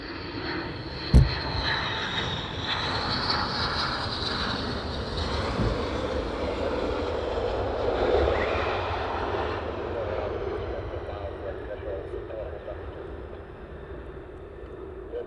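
An F-35 fighter jet flying at a distance during night operations at RAF Lakenheath: a steady, far-off engine roar that swells slightly midway and slowly fades, with one brief sharp click near the start.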